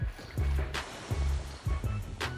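Surf rolls in along the beach at Fort Lauderdale, Florida, in warm water, with deep surges breaking and washing ashore in a steady, repeating rhythm, close and fairly loud, with no talk.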